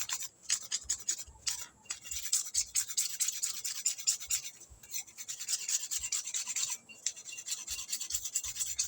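A blade scrapes the outer skin from a strip of bamboo in rapid, close, rasping strokes, a steady rhythmic scratching with a few short breaks, no voices.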